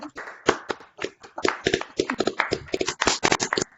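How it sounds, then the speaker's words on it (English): A small group of listeners gives a brief, sparse round of clapping at the end of a talk, with irregular individual claps close by, loosely spaced over a few seconds. "if we can just give a quick clap"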